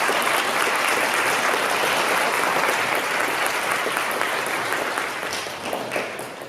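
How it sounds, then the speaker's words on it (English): Audience at an urban league graduation ceremony gives a steady, loud round of applause for families and supporters, sustained throughout before easing slightly at the end. "let's give the families and all the support individuals a round of applause tonight as well"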